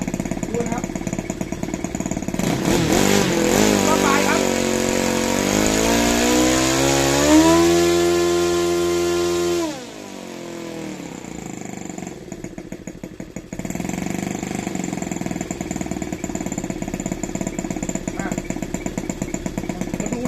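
An OS 155 model engine with a 166 propeller revs up to very high RPM, its loud buzzing roar climbing in pitch, then cutting back sharply and settling into a rough, rapid idle close by.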